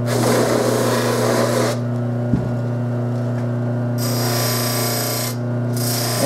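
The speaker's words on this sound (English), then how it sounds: "So I'm going to take the spindle and put that in the bench motor. And get the buffing wheel on there." A bench motor spins a buffing wheel that strips lacquer from a trumpet bell. A steady motor hum carries bursts of rough, hissing friction as the brass is pressed against the wheel, then eases off and resumes.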